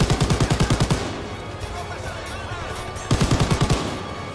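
Rapid, loud bursts of mounted turret gunfire in the World War II shooter Call of Duty: WWII, one volley opening the stretch and another near the end, with battle noise rumbling between them.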